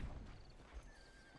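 A war horse whinnies faintly in the video game Red Dead Redemption, a short shrill neigh with soft hoof clops underneath, distant and brief.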